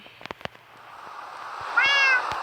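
A cat in the Minecraft video game gives a single clear meow near the end, following a few soft clicks over a quiet background hum.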